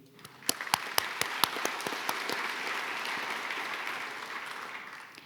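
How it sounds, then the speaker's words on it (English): Applause from an audience at an awards ceremony for community heritage honorees, with sharp individual claps standing out early over a dense, steady wash of clapping that thins slightly toward the end. "I want to give you all a round of applause"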